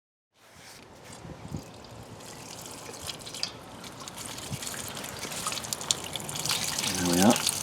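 Home brew liquid for a West Coast IPA runs through a net cooking bag into the cooker, a trickling, dribbling flow of water that swells gradually louder, with a voice talking partway through.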